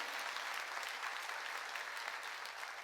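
A church congregation at a summer mountain revival meeting breaks into steady, dense applause, faint and distant, with a low hum beneath the clapping.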